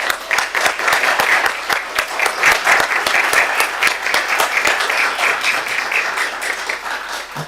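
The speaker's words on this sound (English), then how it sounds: "Please join me in a round of applause for Barbara Mead and Diane Vinci" A school board meeting audience breaks into a steady round of applause, many hands clapping evenly and fairly close, holding a constant level throughout without a voice on top.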